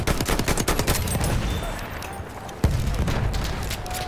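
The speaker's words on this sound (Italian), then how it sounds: "Attenzione, mitragliatrice!" Rapid machine gun bursts in a Battlefield 1 World War I battle, dense repeated shots in the opening second then continuing fire mixed with a sharp loud blast near the middle, chaotic and close.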